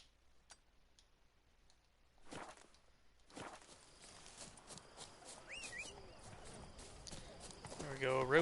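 Roach, the horse in The Witcher 3, clops along with rhythmic hoofbeats that start faint and grow more distinct, with someone talking over them.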